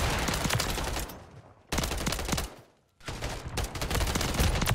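Rapid automatic gunfire from the Striker weapon in Call of Duty MW3 rattles in loud, dense bursts, broken by two short pauses and then resuming at full intensity.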